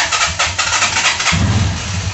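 A cold motorcycle engine starts after a brief cranking, catching at about the midpoint and settling into a loud, steady, close idle that continues to the end.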